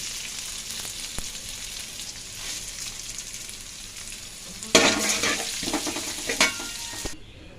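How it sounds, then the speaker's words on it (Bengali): Rice frying in a pan, a soft continuous sizzle that turns busier and louder as the grains are stirred and scraped in the second half. "এখন আমি এর মধ্যে চালটা দিয়ে দিচ্ছি। চালটা আমি ভাজা ভাজা করে নেব।"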